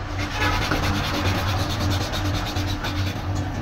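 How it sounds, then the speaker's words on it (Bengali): Sandalwood being ground into paste produces a continuous, rhythmic rubbing and scraping, close and fairly loud, with repeated back-and-forth strokes and no voices. "এই চন্দন বেটে নিচ্ছি"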